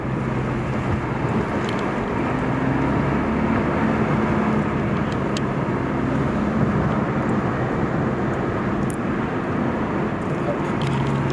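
A Porsche Boxster 987's engine, still cold, drones steadily from inside the car while it is driven gently, a constant broadband rumble with no sharp peaks.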